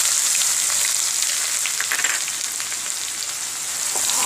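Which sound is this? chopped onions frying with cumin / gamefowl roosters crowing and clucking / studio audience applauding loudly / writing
chopped onions frying with cumin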